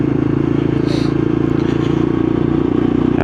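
A Lexmoto LXR E55 125cc motorcycle rides through town streets in Bletchley, its engine a steady, close, continuous low drone with rhythmic pulsing and wind rush throughout, plus a brief higher scrape or clatter near the start.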